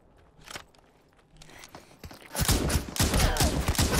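Gunfire rings out in the battle royale game Super People. Scattered distant shots come first, then a loud burst of rapid shots with footsteps in the mix. There is no talking.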